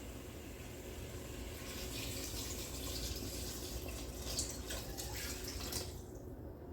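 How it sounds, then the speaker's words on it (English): Beef broth poured into a pot of oxtail stew, a steady liquid splashing and trickling that runs continuously at moderate loudness and then thins out near the end. "I'm gonna add the beef broth."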